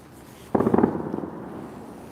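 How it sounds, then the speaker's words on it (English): Fireworks burst near a river harbour at night: a quick cluster of sharp pops and crackles erupts after a quiet start, then fades into a lingering rumble. "Hope you can hear me over top of all these fireworks."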